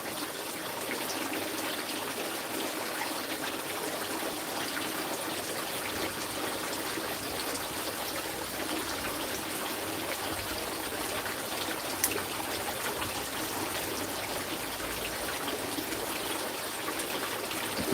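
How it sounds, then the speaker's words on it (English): Water trickles steadily in a garden pond outdoors on a sunny day, a continuous close babble with no speech over it. "listen to the water and whatnot"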